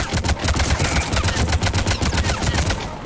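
Rapid automatic gunfire from Mass Effect 3 rattles in dense continuous bursts, loud and sustained across the whole stretch with no talk over it.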